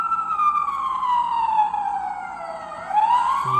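The electronic siren of an LGB 22330 model fire locomotive with a Zimo sound decoder wails in a falling and rising tone, loud and close, cycling continuously without any speech.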